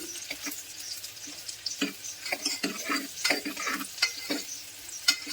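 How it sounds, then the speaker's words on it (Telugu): Finely chopped fresh coconut fries in ghee inside a pressure cooker, sizzling steadily while a spoon stirs it with irregular scraping strokes, close and fairly loud. "చిన్నగా తరుక్కున్న పచ్చి కొబ్బరిని వేసుకుని కలుపుకుంటూ దోరగా ఫ్రై చేసుకోవాలి"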